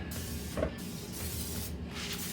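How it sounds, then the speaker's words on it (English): Non-stick cooking oil sprays from a can into a warmed pan in two short, soft hissing bursts, close and fairly quiet, with low room noise between them. "just give it a little spray of some non-cooked cooking oil, or non-stick cooking oil"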